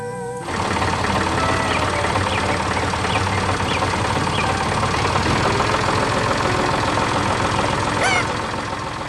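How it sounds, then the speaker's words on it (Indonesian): A yellow tractor moving slowly through a green forest, its engine running with a steady, even drone at moderate loudness after a brief start, faint higher mechanical chirps scattered over the rumble. "Dengan suara mesin yang tenang, traktor itu menggerakkan tanah dan menanam kehidupan baru."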